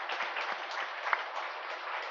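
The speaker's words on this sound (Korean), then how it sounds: "박수 한번 쳐주십시오." A church congregation at a Sunday worship service claps in welcome, producing a dense, even patter of applause held at moderate volume for a couple of seconds.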